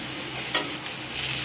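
A ridge gourd and moong dal mixture stirred in a pan, a faint low sizzle with one brief scrape of the spatula partway through, with no voices.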